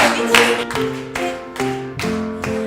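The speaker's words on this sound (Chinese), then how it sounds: "来，我们一起拍手啊！" A church congregation at a Sunday service claps along to a birthday song. Several sharp, even claps land in a steady beat, with sung or sustained tones behind them.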